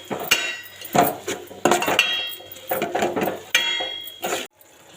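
A spoon clatters and scrapes against a pan in repeated close strokes while a tomato and fenugreek fry is stirred with salt, each stir a sharp metallic clink and rub.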